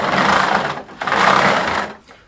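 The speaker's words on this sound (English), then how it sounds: "That's the sound of the wheel rolling over the ties." Toy LionChief diesel train running off-track, its wheels rolling over the plastic ties with a rapid, steady buzzing clatter in two close bursts separated by a brief pause.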